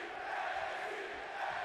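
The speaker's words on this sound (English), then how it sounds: "Crowd is hyped." Crowd noise from a wrestling arena in WWE 2K22, a steady broad roar of cheering that holds for under two seconds with no talk over it.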